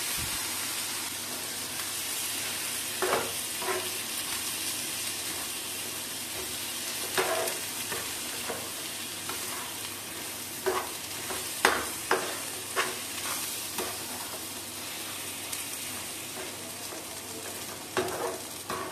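Ground lentil paste frying in a pan, a soft continuous sizzle broken by scattered scrapes and taps of stirring, close and fairly quiet with no speech.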